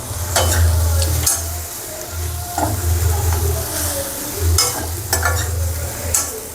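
Eggplant masala for kothsu sautéing in a pan, a spatula scraping and stirring in repeated strokes over a low, continuous sizzle, close and fairly loud with no talking.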